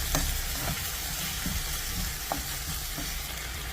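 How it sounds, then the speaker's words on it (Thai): Ginger, pork and chicken gizzards stir-fry in a hot pan for a Thai ginger stir-fry, a dense, even sizzle with a few soft utensil taps and scrapes throughout. "ขิงนะครับ ลงไปผัดด้วยกันนะครับ จากนั้นเราก็จะใส่เครื่องปรุงของเราลงไปนะครับ แล้วก็ผัดต่อเข้ากันนะครับ"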